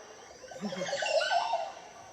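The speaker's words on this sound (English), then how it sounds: "you hear a sound going through his feathers, followed by a call" A bird makes a quick rush of air through its feathers, then gives a short call, faint and close, in a brief burst.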